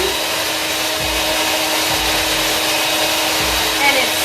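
Electric mixer whipping homemade cream in a bowl, a steady whirring drone with a faint rhythmic knock from the beaters, continuous and fairly close.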